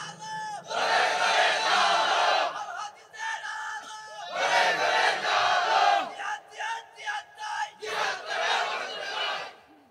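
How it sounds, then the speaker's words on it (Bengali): A large crowd at an Islamic sermon roars a takbir in loud, sustained collective shouts, three big swells separated by brief pauses, the later bursts shorter and choppier. "আওয়াজ করে একটা তাকবীর দেন।"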